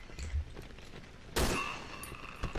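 Gunfire in the survival horror game Cry of Fear: a faint burst of rapid shots comes first, then one sharp, louder shot with a short decay, followed by a few scattered fainter pops.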